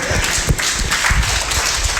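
Listeners at a talk during a residential life-education camp break into a round of hand clapping, a dense close patter of many claps lasting the full two seconds, with no speech over it.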